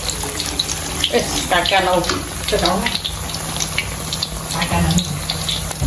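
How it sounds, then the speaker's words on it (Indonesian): Water pours from a tap into a cooking pot for noodle soup with meatballs and carrots, a steady close splashing gush while a person speaks over it. "airnya masuk"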